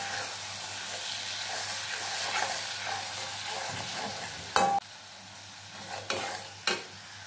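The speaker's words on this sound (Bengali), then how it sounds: "আবারও কিছুক্ষণ কষিয়ে নেবো মশলাটাকে" Ground spices, heavy on cumin powder, are stir-fried in a pan with a soft, continuous low sizzle. A few sharp scraping strokes of the spatula break through toward the end.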